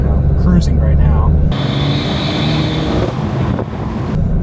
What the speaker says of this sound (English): has some extra turbo noises, but nothing too crazy as it's just, you know, cruising right now